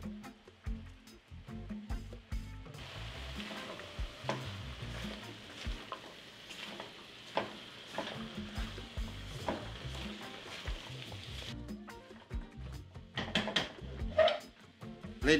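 Ginger and garlic go into a chickpea, quinoa and vegetable stir fry with zucchini, a strong sizzle rising as they hit the pan, followed by repeated scraping and stirring taps, close and continuous without talk.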